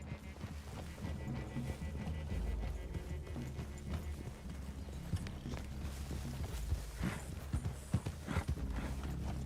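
Horse hooves clip-clop at a steady walking pace in Red Dead Redemption 2, close and continuous, with soft rustling and a low rumble beneath.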